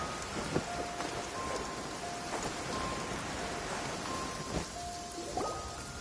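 Steady video game rain in Genshin Impact hisses across the whole stretch, with occasional faint tonal chimes and a soft low rumble underneath; no voices.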